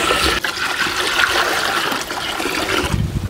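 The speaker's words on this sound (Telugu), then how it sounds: "ఇప్పుడు నూడిల్స్ చేసుకోవడానికి 1 గిన్నె పెట్టేసుకుని నీళ్లు పోసుకుందామండి" Water poured into a pot for cooking noodles, a loud, close, rushing pour that runs steadily throughout.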